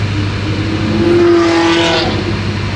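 A BMW E34 fitted with an X-pipe exhaust revs its engine, a loud steady drone that rises in pitch for a moment and then eases back, with no voices over it.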